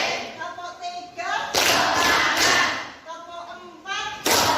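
A class of students claps together in a steady counting rhythm, loud bursts of clapping alternating with a teacher's voice calling out the count over a busy classroom.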